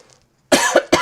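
Three sharp coughs in quick succession, close and loud, after a moment of near silence.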